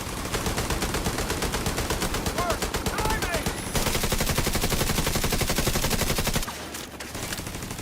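Turret gunfire in a video game: loud, sustained machine-gun bursts of rapid, evenly spaced shots that run almost without a break, with a brief dip in intensity near the end.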